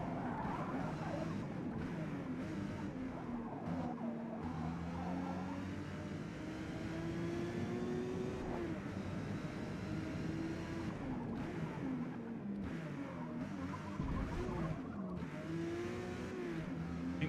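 A race car in Forza Motorsport drives at high speed, its engine droning and shifting pitch with occasional tire noise, steady and fairly quiet with no talk.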